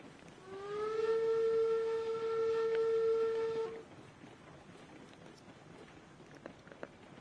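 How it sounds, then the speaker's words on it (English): In the video game Railroads Online, a 4-4-0 American type steam locomotive sounds one long, loud whistle blast of about three seconds, which then cuts off to a low background rumble. "especially when you're driving a classic American type, which is basically a 4-4-0"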